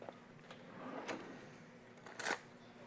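Kitchen drawer opened and shut during cooking, giving a few soft knocks and then a brief louder wooden rattle near the end over quiet room tone.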